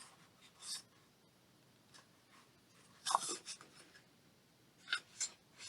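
A paper belly band is folded in half, producing soft rustles and sharper creasing scrapes close by, quiet between bursts, with no voices.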